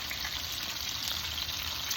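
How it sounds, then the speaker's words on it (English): Red snapper fish frying in a pan of oil, a steady, even sizzle and crackle heard close and continuous, with no talking over it. "Our fish is still frying up."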